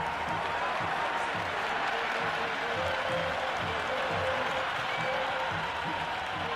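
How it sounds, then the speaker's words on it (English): A big cricket crowd applauds and cheers in Cricket 26 during an India vs South Africa T20 international, a dense, loud roar of clapping that holds steady throughout with a faint murmur of crowd voices underneath. "It's evident and ever so audible that the crowd is at near bursting point at today's play"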